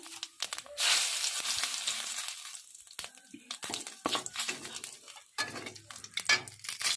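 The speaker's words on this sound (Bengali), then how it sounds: "তেলটা গরম হয়ে গেছে দিয়ে দেব গোটা জিরে একটা তেজপাতা" Whole cumin and a bay leaf hit hot oil in a pan, a close hissing sizzle that swells then settles, with spoon stirring and clinks against the pan.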